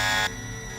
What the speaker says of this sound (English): you got to wait till the end of the alarm